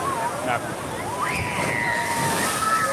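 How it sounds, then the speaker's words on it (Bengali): Big sea waves breaking and washing ashore at Digha beach, a steady broadband surf roar with sloshing water throughout, while voices speak over it. "বিশাল ঢেউ বিশাল ঢেউ"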